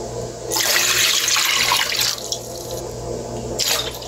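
Water pours into a cooking pot, two liters for a home recipe, a loud rushing splash that swells and fades in bursts with a low hum beneath.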